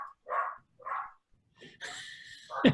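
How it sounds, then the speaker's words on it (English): A dog gives a few short, fairly faint barks in quick succession, followed by a brief burst of hissy noise and a thump. "And the dog says thank you too."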